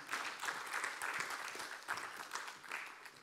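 An audience applauds as a speaker joins a panel at a conference on African diasporas, a dense, even patter of many hands clapping steadily throughout, moderately distant and fairly quiet.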